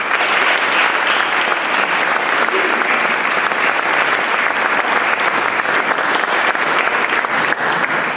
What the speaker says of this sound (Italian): A lui va un grandissimo applauso da tutti noi